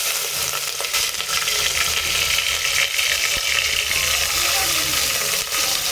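Rice with moong and masoor lentils fries among browned onions for khichuri, a dense continuous sizzle with stirring clatter and light rattles throughout.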